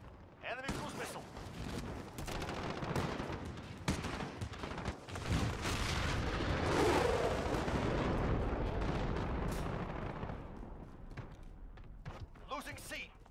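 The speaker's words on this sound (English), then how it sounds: "Enemy cruise missile." A cruise missile strike in Call of Duty: Modern Warfare on the Karst River Quarry map: heavy booming blasts and rumbling explosions build to a loud sustained roar, with gunfire cracks throughout and voices talking over the action.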